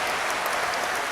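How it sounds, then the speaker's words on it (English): An audience in a theater at Kamiyama Castle in Yamanashi, Japan applauds as a performer walks onto the stage, a dense, steady wash of clapping heard briefly. "Hina enters the stage to a round of applause."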